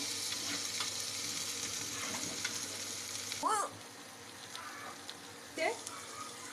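Potatoes frying in a pan with chicken and spice masala, a continuous low sizzle broken by a couple of sharp scraping stirs, with faint background sounds and no clear talk.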